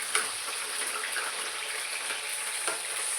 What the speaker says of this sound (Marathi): आता हे पण तळायचं. टमाटर, बटाटा, कांदा